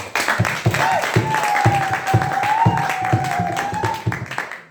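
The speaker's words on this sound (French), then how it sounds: "On applaudit très fort alors." Congregation at a priestly ordination in church claps in a steady, rhythmic unison beat, roughly two claps a second, while a long held musical tone sounds over it.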